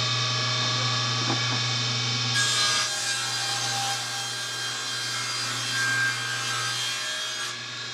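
A piece of 2x8 lumber is cut with a saw, making a steady rasping, grinding sound at close range over a constant low hum, with no speech.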